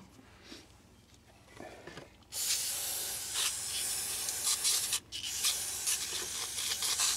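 Oil burner nozzle assembly from a furnace being spray-cleaned, a loud steady hiss of aerosol starting after a quieter lead-in and running several seconds with one brief break.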